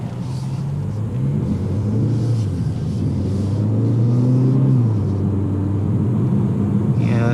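A 2017 Kia Soul with a dual-clutch transmission drives along, its engine drone climbing in pitch and then dropping at a gear shift over a steady, close road rumble heard from inside the cabin.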